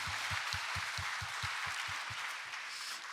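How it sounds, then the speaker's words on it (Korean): Congregation applauding during a Korean church worship service, a steady mass of clapping over a rhythmic low thumping beat, loud and continuous throughout. "우리 하나님께 영광의 박수 올려드리겠습니다."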